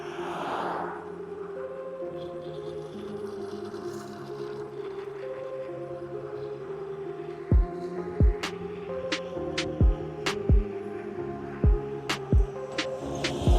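A Nanrobot C1 3.0 electric scooter ridden at full throttle on a road gives off a steady tonal motor whine and hum with shifting pitch, broken by several sharp thumps or clicks near the end.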